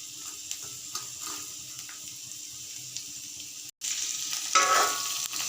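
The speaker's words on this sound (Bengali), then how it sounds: "এখন এগুলো একটু আমি হালকা ভাজা দিয়ে নিব।" Broccoli, cauliflower and carrot pieces lightly frying in a pan, a steady close sizzle with scraping stirs and a brief clatter near the end, no talking.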